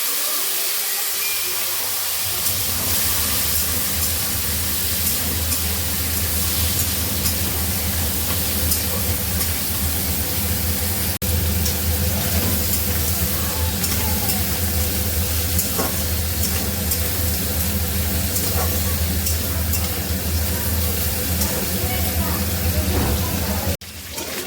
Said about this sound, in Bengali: তো কাঁকড়াটা ভাজা আমার এই যে হয়ে গেছে, কমপ্লিট।